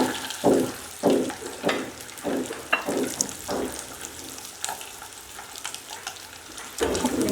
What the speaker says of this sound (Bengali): বেশি ড্রাই করে ভাজবো না, হালকা করে আমি ভেজে রাখবো।